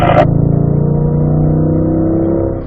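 A car engine on a race track pulls hard up a hill under full throttle, one steady close-up drone with a rich harmonic tone that holds loud for nearly three seconds after a short burst at the start.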